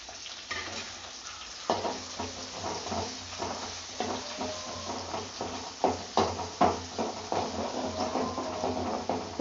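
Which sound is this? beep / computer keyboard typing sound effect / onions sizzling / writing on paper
onions sizzling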